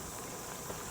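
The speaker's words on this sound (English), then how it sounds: "You can hear the cicadas in the background" Cicadas at Kawiti Caves near Waiomio in the Bay of Islands make a continuous high-pitched buzzing drone, a steady hiss-like chorus with no breaks and no talking, filling the brief moment.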